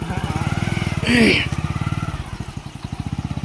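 A motorcycle engine runs with a child riding on it, its steady pulsing throb heard up close and continuous throughout.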